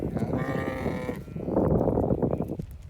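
Several sheep bleat in a pasture while they push at a fence gap where a panel was removed, with loud, overlapping, wavering calls close by and no talk.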